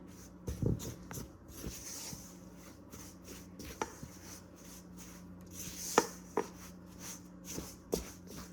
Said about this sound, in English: I'm now going to mix these together until they form a dough that I can work with and knead